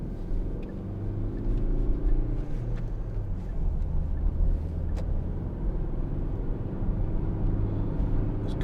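A Hyundai i40 1.7 CRDi diesel car pulls away smoothly, a steady low engine rumble with cabin road noise and a few faint clicks, heard from inside the car without talk.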